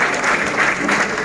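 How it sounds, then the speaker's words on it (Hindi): Loud, dense applause from an audience at a talk, a sustained burst of many hands clapping together, close and full, with no speech on top. "एक बार आप लोगों के लिए जोरदार तालियां"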